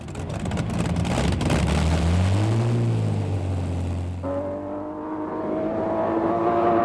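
The 5-ton Bluebird record car, powered by an aeroplane engine, roars loudly as it speeds past at Daytona, its pitch sweeping down, then fading into a lower droning whine as it recedes.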